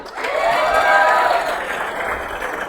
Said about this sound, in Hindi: अच्छे से तालियां होनी चाहिए।